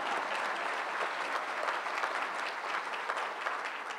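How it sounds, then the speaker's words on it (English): Sustained applause from a graduation ceremony audience for a graduate receiving her degree, a dense even wash of many hands clapping at steady loudness throughout with no voices standing out. "a big round of applause for Laura"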